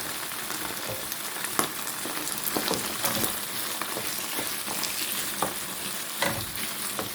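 Ground beef sizzles and crackles steadily in a hot pan, with occasional scraping and stirring sounds over the constant frying hiss.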